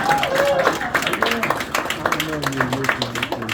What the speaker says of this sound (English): Big round of applause for Madison.